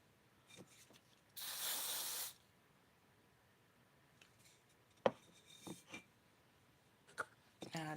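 A burst of Fruitis 24-hour holding hair spray hisses for about a second, loud and steady, between quieter rustles and small handling clicks.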